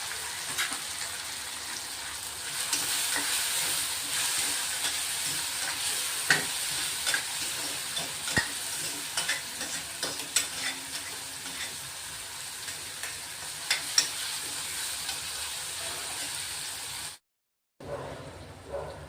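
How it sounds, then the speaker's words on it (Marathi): Tomato, green chili and garlic sautéing in a hot pan give a steady close sizzle, broken by scattered scrapes and clicks of stirring, before the sound cuts off abruptly near the end. "टोमॅटो, मिरची, लसूण चांगले परतून झाले बघा."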